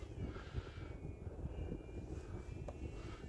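A radio-controlled plane flying past over a snowy field, a steady distant engine drone with faint wind noise and no clear rise or fall.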